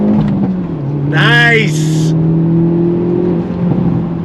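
A 2023 Hyundai Elantra N heard from inside as the engine rises in a long, steady on-throttle drone, with a brief whir of revs partway through and a short spoken remark over it.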